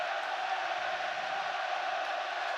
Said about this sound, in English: the crowd are counting it down